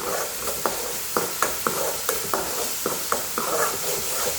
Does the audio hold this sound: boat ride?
no